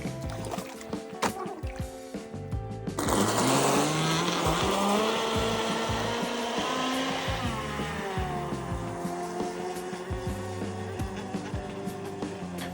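A modified NQD High Wind Mosquito RC toy boat runs on the water under its motor. A high, steady whine rises sharply and stays loud, with pitch sweeps as it speeds and turns.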